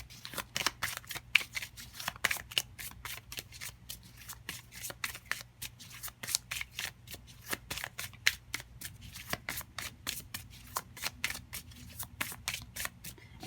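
A deck of oracle cards is shuffled by hand close up, producing quick, crisp riffling flutters in an irregular rhythm of many short bursts, quiet and with no talking.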